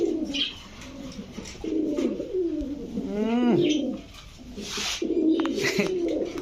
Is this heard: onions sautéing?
no